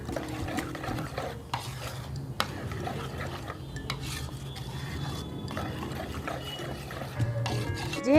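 A spoon stirs semolina breakfast batter mixed with Eno in a bowl, giving close, soft scraping and sloshing strokes at an uneven pace, with a few light clinks against the bowl.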